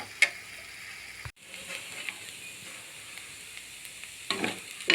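Lentil and cluster bean usili is stir-fried dry in a pan, a soft steady sizzle with a few scraping stirs and clicks, quiet and close throughout.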